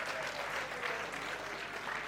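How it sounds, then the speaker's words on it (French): Continuous crowd applause at a wedding celebration, a dense steady clapping that fills the whole moment at even loudness. "Vos applaudissements."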